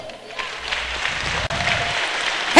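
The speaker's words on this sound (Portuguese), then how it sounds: "Você pode aplaudir o Senhor?" Church congregation applauding at a Pentecostal-style service, a steady broadband clatter of many hands sustained throughout, fairly close and full, with no voices standing out.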